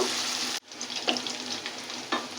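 Chopped onions fry in oil until light brown for beef biryani, a loud steady sizzle that cuts out abruptly, then resumes with stirring scrapes at intervals, no voices.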